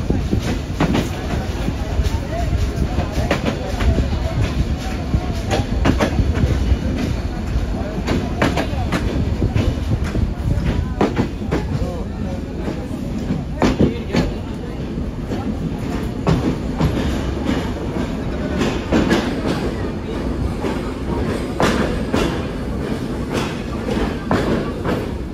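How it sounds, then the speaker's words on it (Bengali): Chitra Express intercity train rolling into Kotchandpur station in Bangladesh, a steady loud rumble of wheels and carriages with rhythmic clatter and thumps throughout, close up, with a faint voice now and then. "আন্তনগর চিত্রা এক্সপ্রেস এই মুহূর্তে প্রবেশ করছে কোটচাঁদপুর স্টেশনে।"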